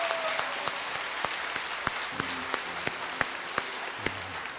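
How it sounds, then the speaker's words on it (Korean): A church congregation at a Sunday service breaks into steady applause, an even wash of many hands clapping with a few louder nearby claps standing out. "우리 다시 한번 박수로 우리 축복합니다"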